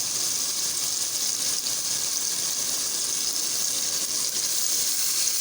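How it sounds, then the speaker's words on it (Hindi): Water poured into a pot of chicken curry on the stove, giving a continuous broad hissing, sizzling rush that stays steady and loud throughout without any talking. "अब मैं इसमें शोरबे लगाने के लिए पानी शामिल कर देती हूँ।"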